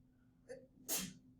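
One person sneezes close by in a quiet indoor room: a short sharp inhale comes first, then a single loud, bursting sneeze that dies away quickly.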